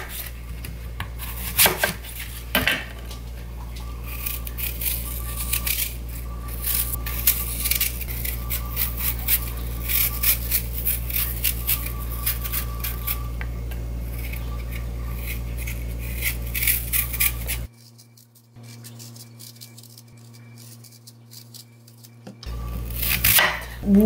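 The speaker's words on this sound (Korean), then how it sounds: "그냥 요 정도로 썰어 놓겠습니다" A knife chops apples and pears on a cutting board for fruit water kimchi, a steady run of close, crisp thuds that stops abruptly near the end before a few final sounds.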